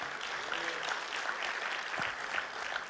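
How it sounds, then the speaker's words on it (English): A church congregation claps its hands in praise, a dense, steady patter of many hands at moderate distance that keeps going throughout without a break. "Give God a hand clap of praise for that."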